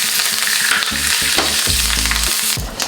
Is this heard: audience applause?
no